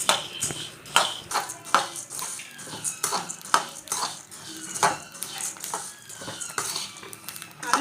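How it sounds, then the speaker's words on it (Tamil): Coriander seeds are dry-roasted in a pan on low flame, with repeated clinking and scraping taps of a spoon stirring them at an irregular rhythm, close and fairly quiet. "இந்த மல்லியை சிம்மிலே வச்சு வறுத்தோம்னா இது ஒரு ஏழு எட்டு நிமிஷம் ஆகும் வறுக்க"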